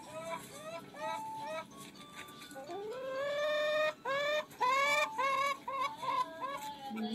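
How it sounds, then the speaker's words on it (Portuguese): A hen clucks in a series of short calls that rise into louder, drawn-out squawks, then settle back into clucking, close and clear with no talking over it. "É uma galinha."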